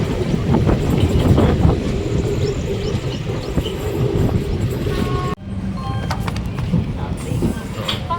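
Passenger train moving just after leaving Jolarpettai Junction, a steady loud rumble of wheels and carriages that continues throughout, briefly cut and then resuming slightly quieter, with voices in the background.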